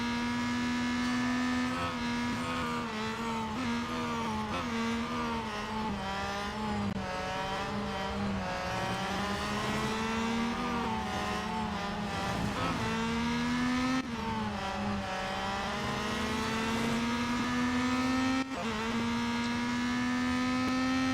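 Race cars in the video game Real Racing 3 drive and overtake, a loud whining engine note rising and falling with gear changes and revving, continuous and close, with faint tire squeal.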